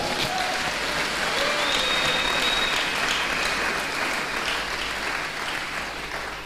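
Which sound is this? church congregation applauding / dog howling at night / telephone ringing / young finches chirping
church congregation applauding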